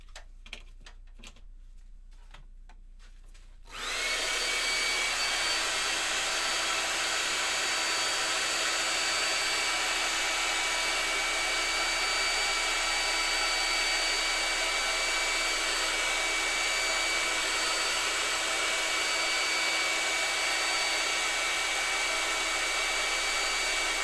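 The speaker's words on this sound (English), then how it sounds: "I'm actually going to put a bit of heat on there to dry that before I put the next colour on" A heat tool drying water-based wood stain switches on after a few quiet seconds and then blows with a loud, steady, close whoosh that continues to the end.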